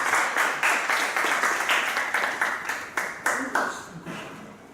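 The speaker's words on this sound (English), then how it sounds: "Big round of applause." Audience applause, clustered claps in a rhythmic patter that swells and then thins out over several seconds, with faint voices beneath.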